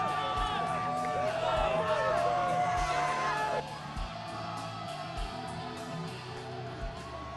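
Crowd at a girls' high school basketball game, Red Land vs Cedar Cliff, whooping and yelling loudly with sustained cheering, then settling into a lower roar.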